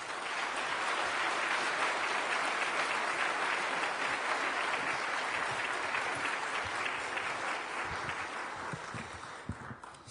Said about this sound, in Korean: 우리들의 뜨거운 박수로 환영해